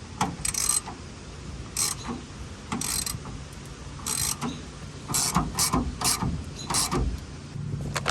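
A hand ratchet snugs a fastener on a damaged rear car bumper, giving short bursts of rapid clicking separated by pauses, close and fairly loud, with no talk over it.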